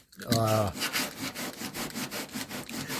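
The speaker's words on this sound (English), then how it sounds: "this body fill is just nicely tacky, and this is 50 grit sandpaper" Coarse 50 grit sandpaper rubbed over tacky body filler on a car, rhythmic back-and-forth scratching strokes at close range, fairly loud and regular after a brief opening noise.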